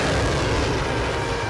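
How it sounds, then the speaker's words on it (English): A cartoon cleaning missile launching, heard as a loud, dense roaring rumble that fills the whole short moment with steady blast-like thunder and no break. "Initiating cleaning missile."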